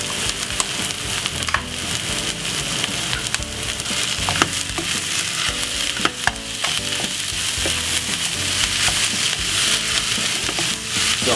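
British minced meat browning in a pot over softened onions, a steady dense sizzle and crackle running throughout with occasional sharper pops and stirring scrapes, loud and close.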